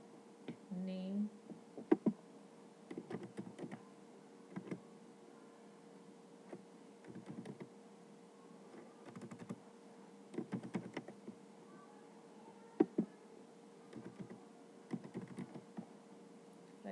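Mail merge data is typed on a computer keyboard in bursts of quick, fairly faint clicks separated by pauses, with a low steady hum underneath.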